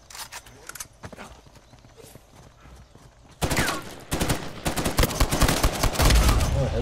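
Gunfire bursts from the video game Uncharted 4 end in a headshot, with loud dense shots and clatter arriving suddenly after quieter game ambience and continuing in close, rapid bursts.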